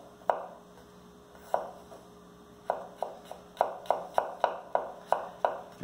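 Garlic cloves are finely chopped with a knife on a cutting board: sharp close knocks, sparse at first and then a quicker, steady run of about a dozen strokes, with no talking.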